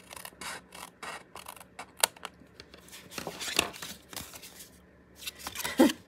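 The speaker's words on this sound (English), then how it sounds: "I must be cutting like sideways because I'm using these ridiculous little scissors." Small scissors snipping in short, scattered bursts of crisp cutting and rubbing, fairly close and moderately loud, with brief pauses between cuts and no talking.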